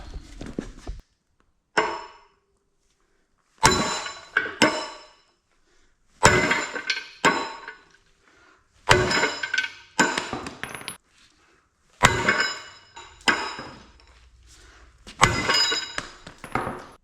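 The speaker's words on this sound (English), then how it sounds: "give that a couple taps and pop that axle shaft out from the bull gear" A hammer tapping the axle shaft out of the bull gear on a 1960 John Deere 430 Standard two-cylinder tractor final drive, sharp metallic clanks in spaced bursts separated by silence, close and loud.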